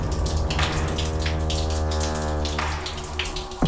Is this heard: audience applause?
no